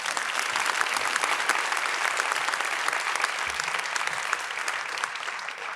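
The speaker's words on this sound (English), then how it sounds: "Another round of applause, please." An audience at a scholarship awards celebration breaks into sustained applause, a dense, even wash of many hands clapping that holds steady from start to finish.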